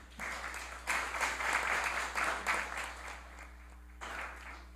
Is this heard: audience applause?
yes